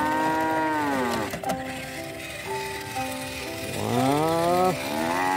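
A big mother cow and a water buffalo being loaded onto a truck give long, loud, wavering moos, one early and a second deep bellow near the end, with some clanking in between.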